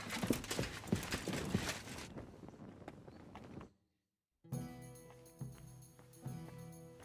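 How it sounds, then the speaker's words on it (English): Horse hooves clip-clopping in the medieval game Kingdom Come: Deliverance II, a steady run of close, fairly loud hoofbeats that cuts out into a brief silence before another scene resumes. "This horse must have cost a pretty groschen."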